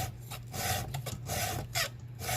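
A chainsaw tooth is hand filed with a Granberg G106B bar-mounted file, giving a close, raspy scraping in several quick back-and-forth strokes with no voices.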